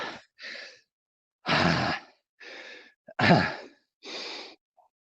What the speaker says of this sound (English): we're getting out of breath. We're heavy breathing